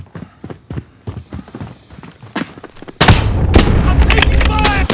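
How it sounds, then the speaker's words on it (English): Gunfire in the video game Call of Duty: Modern Warfare: rapid close shots and footstep-like clatter, then a sudden loud burst of heavy sustained fire that fills the last seconds. "I'm taking fire!"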